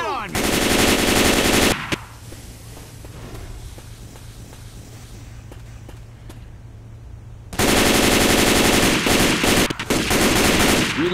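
Automatic rifle fire in the zombie shooter Left 4 Dead 2: a loud, sustained burst of rapid shots up close, a quieter stretch with faint thuds and steps, then another long, heavy volley.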